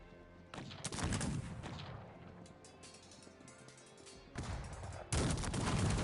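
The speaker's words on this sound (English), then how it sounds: "that sounded like a cannon" Cannon fire in a Cossacks 3 multiplayer battle: several sharp booming volleys bursting out of a constant crackle of distant gunfire, with the loudest blasts clustered near the start and the end.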